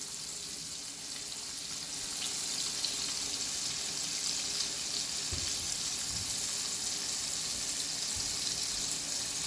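Chicken strips dusted in flour, escovitch style, fry in a pan with a steady, close, bright sizzle that holds across the whole stretch, with a few low bumps and no voices.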